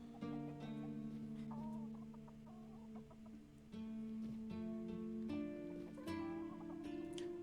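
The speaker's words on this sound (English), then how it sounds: "Look at all these chickens." Chickens cluck in the Avalon video game, a steady chorus of clucks and short calls over a layered background tone, with no talking.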